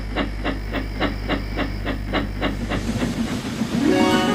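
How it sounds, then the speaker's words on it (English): Steam train chuffing away from a station in a steady run of about nine regular puffs, with a constant low rumble beneath and a rising hiss of steam toward the end. "The driver climbed back on board and they puffed out of the station."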